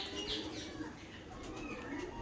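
Pigeons, kept racing birds, cooing softly and steadily in the background over a short stretch, with no other clear sounds on top.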